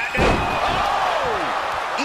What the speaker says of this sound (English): Scoop slam by Hogan.